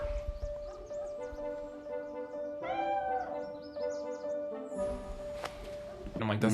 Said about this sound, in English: They hear the cat at the old lady's house meow from across the street.